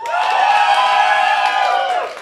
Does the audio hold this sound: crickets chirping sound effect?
no